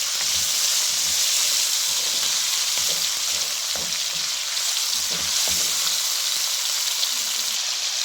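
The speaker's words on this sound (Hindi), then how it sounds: "इसको अब हम इतना भून लेंगे कि ये इसका कलर भी जो है चेंज" Boneless chicken fries in ghee for a mixed vegetable pulao, giving a steady loud sizzle and hiss throughout with occasional soft stirring scrapes underneath and no speech.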